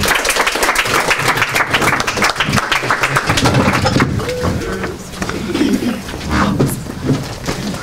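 Audience clapping welcomes four panelists onto the stage at a youth event, dense at first and then thinning out. Some voices and cheers mix in toward the end.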